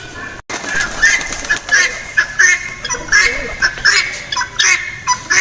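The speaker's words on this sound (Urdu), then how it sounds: "یہ ادھر آگے کچھ پرندے جو ہیں وہ رکھے ہوئے ہیں" Ducks and pigeons kept at a shrine, with repeated nasal quacks and bird calls at close range over outdoor ambience, no talking.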